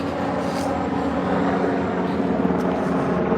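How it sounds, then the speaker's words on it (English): A loud, steady rotor drone fills the air from a helicopter passing overhead above Riverside Park in New York City, continuous throughout with no voices. "A lot of helicopters I'm hearing."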